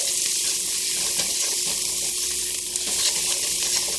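Seasonings and garlic powder sizzling with onions and garlic in a pan while making mustard and collard greens, a loud, continuous close-up frying hiss with faint stirring scrapes throughout.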